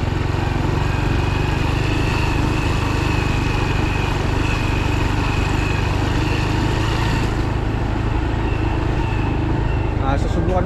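A Honda Wave 110 motorcycle hums along on a road test, its small engine droning steadily with rushing road and wind noise throughout, the rider nearby and the engine holding a constant pace.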